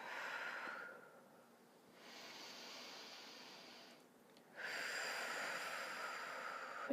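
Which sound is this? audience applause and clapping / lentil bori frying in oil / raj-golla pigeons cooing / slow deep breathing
slow deep breathing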